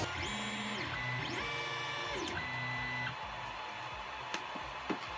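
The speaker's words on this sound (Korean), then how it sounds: "우선 빨간색 필라멘트로 먼저 코카콜라 컵뚜껑의 바닥면을 다 출력을 하고 있습니다." A 3D printer lays down the base of a Coca-Cola cup lid in red filament, its stepper motors whining in rising and falling tones with small clicks, steady and close.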